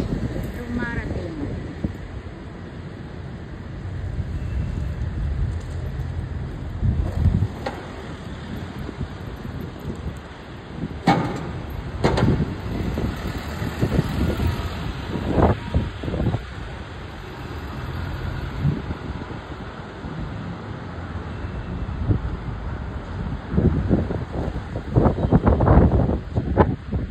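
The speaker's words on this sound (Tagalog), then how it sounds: "Ngayon po sobrang lakas ng hangin po" Strong wind buffets the microphone in London in heavy, roaring gusts, with a voice speaking intermittently underneath.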